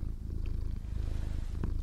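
A small, fully striped cat with a white-tipped tail purrs while lying on the back of a sofa, a close, steady, continuous rumbling with no speech over it.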